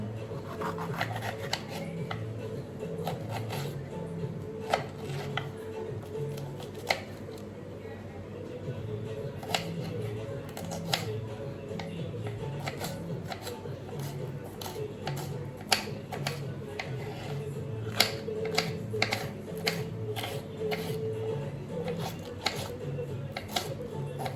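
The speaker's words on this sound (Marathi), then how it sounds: "आता मी करते चॉप शिमला मिर्च। एक छोटी शिमला मिर्च घेतली, मी कट करून घेते, बारीक चॉप करूया आपण आता।" Knife chopping a small capsicum finely on a board, a steady run of quick, close taps with occasional rubbing scrapes, fairly loud against faint background music.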